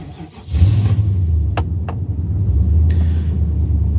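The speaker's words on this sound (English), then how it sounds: "Truck fired right up." A Nissan Titan pickup with about 262,943 km on it starts from cold: a brief starter crank, then the engine catches into a steady, loud, close rumbling idle.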